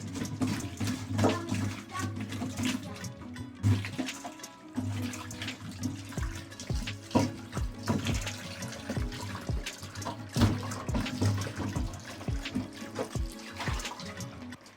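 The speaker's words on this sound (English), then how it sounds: "Let's wash your potato." Tap water runs steadily into a sink while a potato is washed by hand, giving continuous splashing with irregular bursts of sloshing, fairly close, with a little background chatter.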